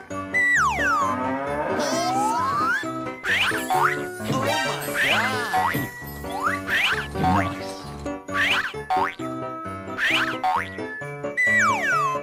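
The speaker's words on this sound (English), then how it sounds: "Cow." Cartoon-style cow moos, stretched and bending in pitch, mixed into busy game music with boing-like sound effects, loud and repeated throughout.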